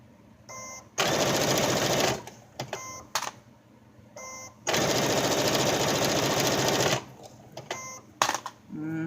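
A sewing machine stitching fabric for a robe runs in two long, steady buzzing bursts, separated by short stop-start stitches and handling clicks, close and clear.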